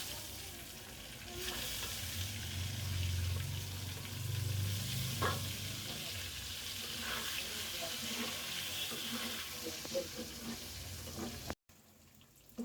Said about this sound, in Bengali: এখানে আমি একটু অল্প হলুদ নুন দিয়ে ডিমটা একটা হালকা ভাজা দিয়ে নিব